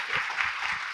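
Brief burst of audience applause in a Korean talk show studio, a steady wash of many hands clapping at moderate level with no talk over it.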